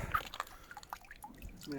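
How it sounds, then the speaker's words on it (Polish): Water spills and drips out of a bicycle pannier bag during a night ride, with a few soft splashy trickles close by under people talking. "Woda wylewa się z sakwy."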